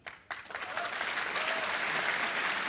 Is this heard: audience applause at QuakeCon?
yes